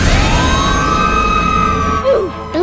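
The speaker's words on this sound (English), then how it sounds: "Spidey, the siren cop is coming towards us" Wailing police-style siren of the siren cop creature in a horror-themed video game, loud and close, a long rising and falling tone with short sweeping chirps near the end.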